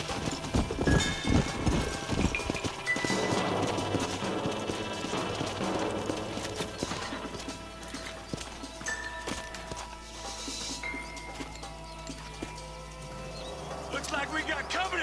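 Horse hooves clip-clopping in Red Dead Redemption, a steady trotting rhythm under overlapping talk, music and game ambience, fairly close and continuous.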